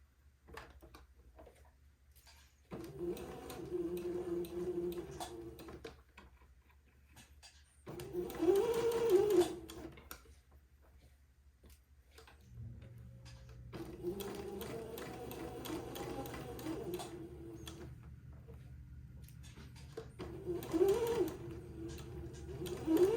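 A domestic sewing machine stitches fabric for a baby daygown in several separate bursts of whirring, each a few seconds long, with quiet pauses between runs.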